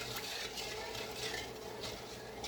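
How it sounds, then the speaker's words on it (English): Warm milk and sugar are stirred steadily in a bowl for bread rolls, a close, continuous swishing with faint scraping against the sides. "Now we're going in with 2 cups of warm milk. Okay, there's our 2 cups of warm milk. Stir that."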